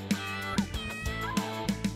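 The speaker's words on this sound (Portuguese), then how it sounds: "Esse é o gato." An animated cat in a children's musical cartoon lets out several short, quick meows in an uneven rhythm over a soft background.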